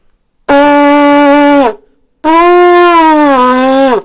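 Two long, buzzy blasts on a goat horn, the first steady and the second wavering and sagging in pitch, with a short silence between them.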